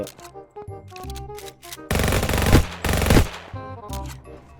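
Rapid automatic gunfire in a GTA-style mobile game, with two dense bursts of shots in the middle set against game music and effects.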